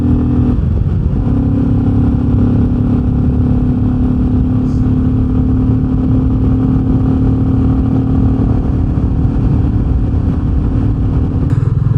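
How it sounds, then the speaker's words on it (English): A Royal Enfield Meteor 350 motorcycle with an upgraded exhaust rides in freezing winter conditions, its engine and exhaust holding a loud, steady single-cylinder drone with a constant pitch for the whole stretch, with no talking. "I really like the sound of the exhaust and the engine."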